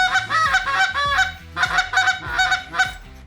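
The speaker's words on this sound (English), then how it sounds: "Now it's going to sound a little bit more like a kazoo and less like the actual Canada goose that you're trying to call" A short-reed Canada goose call blown without hands, giving a series of nasal, kazoo-like honks in two quick bursts, loud and close with no talking.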